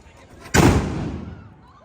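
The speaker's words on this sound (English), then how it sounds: "They just let off a cannon, big old loud cannon shot." A single loud cannon shot fired at a Texas Renaissance festival, one sharp close boom that rolls into a long fading rumble lasting over a second, with faint crowd noise beneath.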